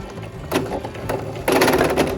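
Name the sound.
sewing machine sewing a fabric face mask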